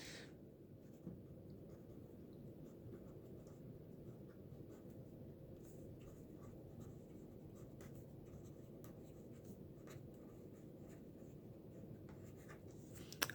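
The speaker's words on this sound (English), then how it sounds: "I'm going to write that down right here." A pen writes notes on paper with a faint, steady scratching that runs unbroken for the whole stretch, quiet and close, with no talking.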